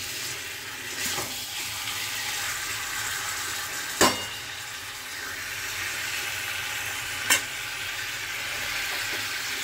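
Chicken marinated in sour yogurt and spices sizzling in a pan over a low flame, a steady soft frying hiss broken by a few sharp knocks of stirring.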